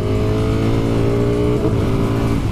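Ducati Streetfighter V4 motorcycle with its V4 engine, redlined at 14,500 revs, running loud and close with a steady buzzing drone, the pitch shifting briefly partway through, no speech.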